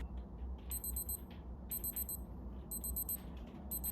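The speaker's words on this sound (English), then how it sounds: "Now the watch beeps at 0 and instantly restarts the count" A Casio W800H digital watch beeps as its countdown timer reaches zero and auto-repeats, giving three short bursts of rapid high-pitched beeps at regular intervals over a low background hum.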